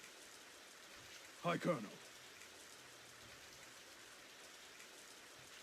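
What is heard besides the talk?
rain falling in the video game Radiant Historia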